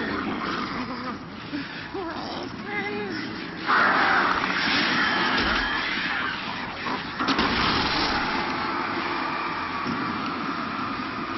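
Crows caw in the game Alan Wake, harsh calls over a dark ambient bed with occasional thumps and louder bursts, fairly close and repeated throughout.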